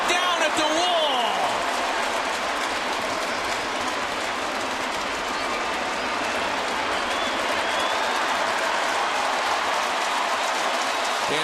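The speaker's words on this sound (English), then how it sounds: "the 10-time Gold Glover gets a nice round of applause from the home faithful." A baseball stadium crowd at a Red Sox and Yankees game applauds a catch at the wall, a loud, continuous roar of clapping and cheering that fills the whole stretch, with a voice briefly heard at the start.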